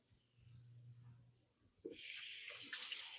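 An English cucumber is rinsed under a running kitchen tap: after a quiet, low murmur, the water gushes on suddenly and keeps up a steady, bright splash to the end.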